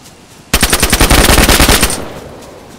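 A sustained burst of rapid automatic gunfire in the video game DayZ, loud and close, with roughly a dozen evenly spaced shots over about a second and a half, then a fading tail.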